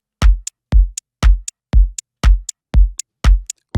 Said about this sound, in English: Really simple 4 to the floor groove with a kick,